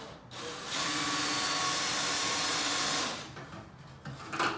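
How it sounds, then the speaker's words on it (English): A power drill whirs steadily for a couple of seconds at close range, then winds down into quieter handling noises. "And I'll pre-drill this puppy."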